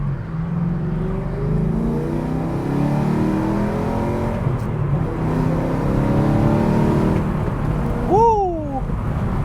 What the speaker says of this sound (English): the sound of the exhaust makes up for it because this thing is ridiculous